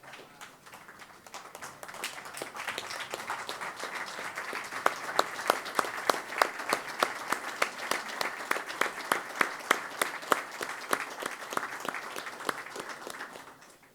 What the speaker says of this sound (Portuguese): podermos pôr-nos de pé e bater